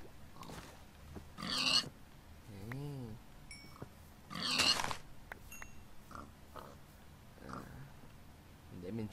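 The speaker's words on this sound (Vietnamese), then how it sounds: "Sao trong rừng mà nhiều heo thế?" Wild boars in a forest area of a video game give a few short grunting calls, scattered between quieter stretches, with a person talking over parts of it.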